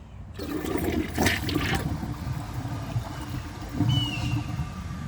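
A Glacier Bay high-efficiency toilet flushing up close, a rushing gush of water that swirls and drains, with trickling and a second surge toward the end.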